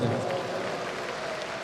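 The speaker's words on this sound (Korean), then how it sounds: "우리 힘차게 박수하시겠습니다." An audience at a large church evangelism rally in Yongin claps steadily just before a flute performance, giving a continuous, fairly soft wash of applause.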